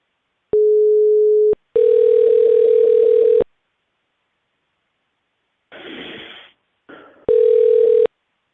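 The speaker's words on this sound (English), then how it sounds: "So let's give her a call and see if we can get her on the phone." A phone call is placed and answered by tone signals rather than a ringing bell: loud, clean steady tones in several separate bursts with short gaps, plus a brief noisy crackle of line static before the final tone.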